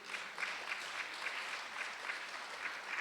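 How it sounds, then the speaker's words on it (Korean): Applause from a church congregation at a service where young people heard speaking Korean and Chinese are honored, a steady, even patter of many hands at moderate distance lasting throughout, no talk over it. "여러분 박수 치셔야 돼요."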